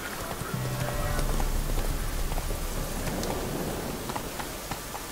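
A horse named Roach gallops in a video game, rhythmic hoofbeats clip-clopping steadily at close range over a constant rushing background for about five seconds.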